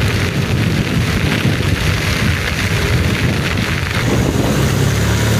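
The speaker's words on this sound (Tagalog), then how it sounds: "Ayun o, tuloy-tuloy yung ulan eh." Heavy rain pours down steadily during a typhoon while wind buffets the microphone, a loud, continuous roar with no talking.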